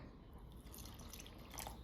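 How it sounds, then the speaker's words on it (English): Water poured by hand into a mound of flour while making pizza dough, a faint, steady trickling and dripping that runs quietly through the whole moment with no talking. "Pour some water."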